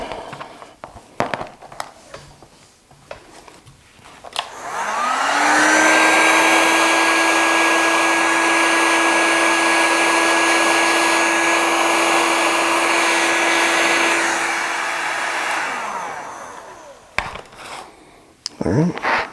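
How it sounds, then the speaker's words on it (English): Heat gun blowing hot air onto heat shrink tubing over wires while powering a Bento Box in a Bambu Lab X1 Carbon 3D printer: a steady, loud whooshing roar with a fan whine that spins up, holds for about ten seconds, then winds down. "Let's get the heat gun going."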